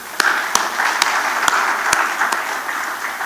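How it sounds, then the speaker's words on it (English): A summit audience breaks into a round of applause, dense steady clapping from many hands with a few sharper individual claps standing out, loud and sustained across the whole moment. "Would like to give you a round of applause on that one."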